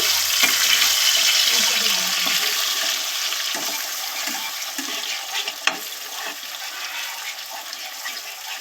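Spice paste for prawn malai curry sautés in a hot pan with a steady, close sizzling hiss, broken by occasional scraping stirs and a sharp clack near the end. No one speaks.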